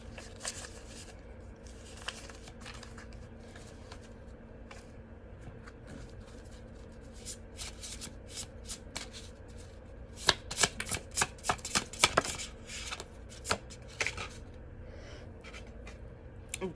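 Tarot cards shuffled by hand, a long run of soft riffling and flicking, quiet at first and then a burst of sharper, quicker snaps near the end, heard close up with no talking.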